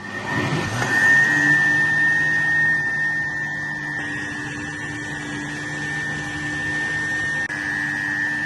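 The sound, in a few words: blender pureeing coconut milk soup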